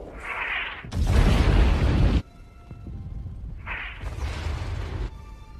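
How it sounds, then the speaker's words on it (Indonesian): Explosions in the war film Enemy at the Gates: two loud, broad blasts about three seconds apart, each with a rumbling low-end body and a trailing roar, separated by quieter ambient battlefield noise. "Vasily sengaja menunggu suara ledakan kemudian menembak bersamaan dengan suara ledakan tersebut"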